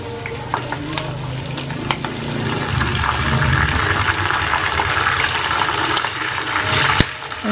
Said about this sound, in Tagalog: Tapos pork chop ni Mahal. Yan, prito lang natin.